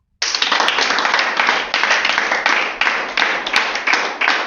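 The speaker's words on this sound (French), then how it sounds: "On acclame pour Enoch." A church congregation clapping and cheering together, a loud dense burst of applause that starts abruptly and keeps up steadily with faint crowd voices mixed in.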